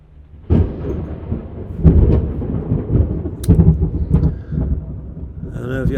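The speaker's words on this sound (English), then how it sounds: "I don't know if y'all hear it or not, but it is cracking outside now." Thunder cracks and rumbles from a large storm outside, heavy low booms rolling in waves across the clip, fairly loud, with a voice briefly speaking over the end.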